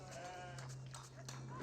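Sheep bleat in the real-time strategy game Age of Empires 4, a few soft, wavering calls over a steady low hum, quiet and without speech.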